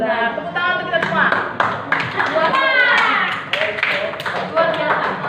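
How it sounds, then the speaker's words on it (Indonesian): Students in a classroom clap together in a brief burst of uneven applause, heard close. A teacher's voice and children's voices talk over the clapping. "Nah, tepuk tangan untuk kita semua."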